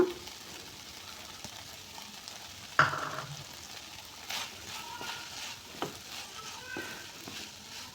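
A fried egg goes into a pan of chicken fried rice, with faint sizzling and soft stirring nearby and a brief louder scrape as it is added.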